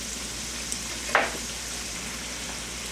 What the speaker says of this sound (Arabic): اسخن الزيت وحطها على طول طلعه من الفريزر دايركت على الزيت